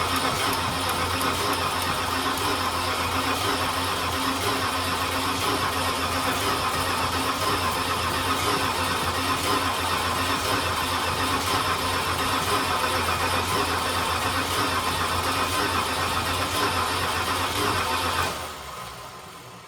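A Dodge engine cranks and runs after a new gas line and battery are fitted, a loud, steady mechanical drone held for most of the clip before it cuts off near the end, with no talking.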